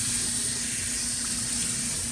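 Warm water runs steadily from a tap into a sink while a PEI 3D-printer build plate is washed, a constant close hiss and splash with no talking.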